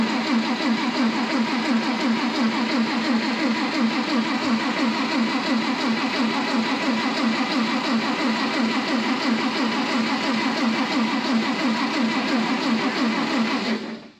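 An F-4 Phantom's engine runs steadily right after ignition, a loud, close, continuous mid-pitched roar that holds even for about fourteen seconds before cutting off abruptly at the end; no voices.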